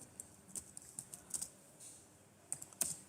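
Light, irregular typing on a computer keyboard, quiet scattered key clicks with a couple of brief bursts, close and faint with no talk.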